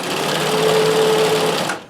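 A vintage sewing machine stitching with a stretch stitch cam, a loud, steady whirring hum that runs evenly and then winds down at the end, no voices.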